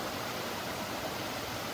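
The steady broadband rush of a waterfall at Fall Creek Falls in the Sipsey Wilderness, Alabama, heard from near its top as a constant, even roar with no voices.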